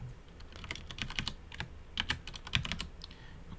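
A file name is typed on a computer keyboard, a quiet run of close, irregular key clicks lasting a few seconds.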